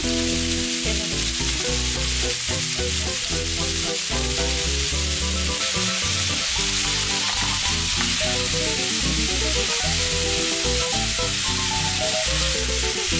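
Meat and chorizo frying in a pan for a Venezuelan tapao, a loud continuous sizzle with crackling bursts and occasional stirring, close and unbroken, no voices.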